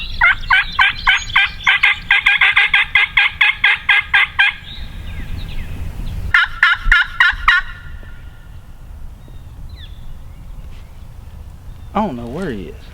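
A wild turkey gobbler calls in a Massachusetts field on opening day of the hunt. Loud, close, rattling gobbles come in rapid repeated bursts, then another short run of them, followed by a quieter call near the end.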